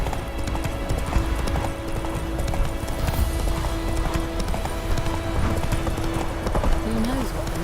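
Roach, a horse in The Witcher 3, gallops with steady rapid hoof clip-clops throughout, close and continuous over game music, with a brief whinny near the end and someone talking.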